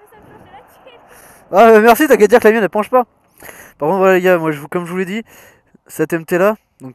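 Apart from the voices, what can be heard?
No everyday noises stand out.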